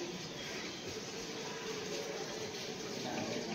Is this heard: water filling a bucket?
yes